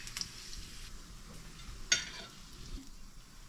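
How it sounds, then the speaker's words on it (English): Bacon frying in a pan, a soft steady sizzle with a few sharp pops and a faint utensil tap near the middle, quiet and close. "This is like perfect bacon, Michael."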